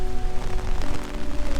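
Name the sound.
heavy rain falling in Rome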